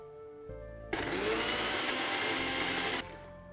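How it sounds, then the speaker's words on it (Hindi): A kitchen mixer grinder grinds a paste for a Jain dish, whirring loudly for about two seconds, a dense steady roar that starts abruptly and cuts off, with background hum before and after. "चलिए मिक्सी का जार हम बंद कर देंगे और इसे हम पीस लेते हैं।"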